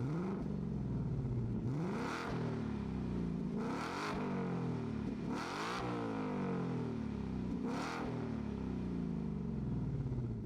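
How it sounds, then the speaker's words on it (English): A new Ford Mustang GT V8 fires up and settles into a rumbling idle, then is blipped several times in loud, close revs that climb and fall back, with no talking. "Here is a startup and rev from the new Mustang GT."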